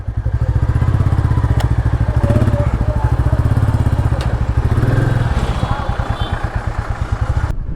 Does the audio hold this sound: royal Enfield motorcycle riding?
yes